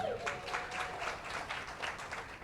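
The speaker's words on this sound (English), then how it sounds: "let's hear a round of applause for everybody here today" Diffuse audience applause from a group at a morning business masterclass session, moderately quiet and steady, a soft wash of many hands clapping without distinct individual claps.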